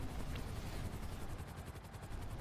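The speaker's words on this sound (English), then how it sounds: "the helicopter was above me" A helicopter flies overhead in GTA 5, its continuous rotor chop and engine roar pulsing steadily and loudly without pause, with no talking.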